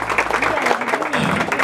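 Applause for a mariachi band at a quinceañera celebration, a dense crowd clapping steadily and close while a voice talks over it.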